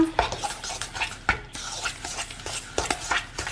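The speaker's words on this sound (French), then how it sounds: "Je mélange bien." Spoon stirring sugar into a mixture of very ripe fruit in a bowl, with repeated scraping and clinking strokes against the dish, close and fairly quiet, no talking.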